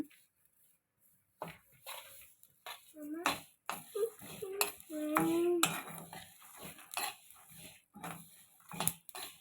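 Peanuts and flax seeds are fried and stirred in a pan for a dry fruit laddu, giving intermittent metallic scrapes and clinks with soft rattling. Voices are heard in between.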